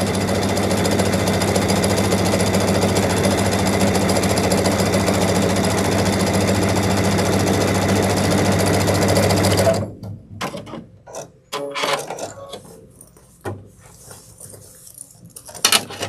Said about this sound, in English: Going to sew both of them going in the same direction, just like as if it were a strap.